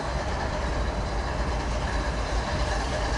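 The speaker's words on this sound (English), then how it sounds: "we have a westbound port stacker about to pass right now" A westbound port stacker freight train rumbles past up close at a railyard in Commerce, a loud steady roar of wheels and wagons filling the whole stretch without pause.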